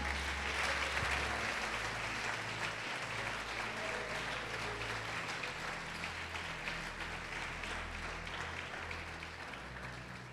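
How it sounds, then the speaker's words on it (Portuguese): A church congregation gives sustained applause, heard faint and somewhat distant as an even wash of clapping with a low hum beneath, slowly fading. "Pode aplaudi-lo e glorificá-lo."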